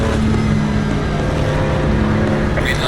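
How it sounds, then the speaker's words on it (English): Ferrari race car engines roar together at a rolling race start at Monza in a sim racing game, a steady, loud, close drone that holds throughout. "It's put to the floor and the engines roar here at Monza once again"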